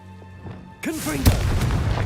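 A Confringo fire spell in Hogwarts Legacy bursts with a sudden booming blast, followed by a sharp second crack and a rumbling, crackling tail, all loud and close after a quieter lead-in.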